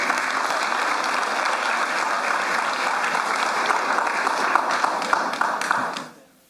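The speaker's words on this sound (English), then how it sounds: "Please give him a round of applause." An audience at the Sir Arthur Lewis Memorial Lecture applauds the Governor with steady, dense clapping that holds for several seconds, then quickly fades out.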